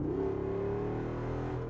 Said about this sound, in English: it kicks down in a relatively short amount of time, and then you are just met with that glorious, glorious V8 engine